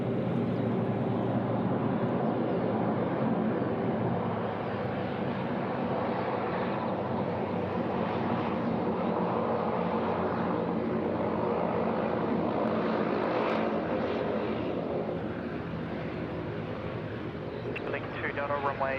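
An aircraft takes off from runway 34 right at Sydney Airport, its engines holding a broad, steady roar for the whole stretch while air traffic radio voices talk over it.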